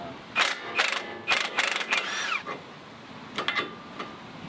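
Wrench breaking loose a suspension nut during an RCV axle rebuild and long-travel refresh, a burst of loud clicking ratchet strokes followed by a creak and a few fainter clicks, no talk.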